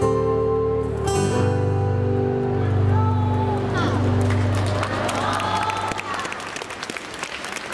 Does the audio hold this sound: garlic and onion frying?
no